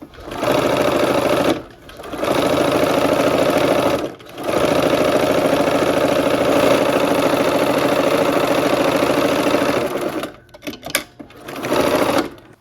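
Close and loud, a sewing machine runs in long continuous bursts stitching a quilt block seam, its rapid mechanical whir pausing briefly three times and stuttering near the end.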